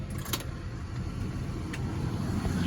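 A 1971 car's engine idles steadily with its air-conditioning compressor switched on, giving a constant low rumble with a few brief clicks and rattles near the start.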